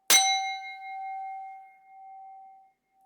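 A singing bowl struck once with a bright metallic clang, then ringing on as a clear sustained tone that slowly fades over a few seconds in a quiet room.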